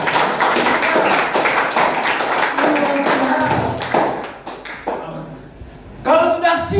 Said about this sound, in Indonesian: Berikan tepuk tangan untuk kemuliaan Tuhan.